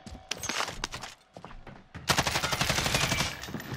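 Gunfire in the Warzone video game, with scattered single shots and then sustained rapid automatic bursts that grow loud and dense.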